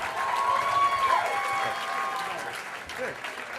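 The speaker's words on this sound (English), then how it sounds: "Give Tim a round of applause." A comedy club audience applauds a comedian named Tim Lopez as he is brought on stage. The clapping is steady and sustained, with crowd noise and a voice running over it throughout.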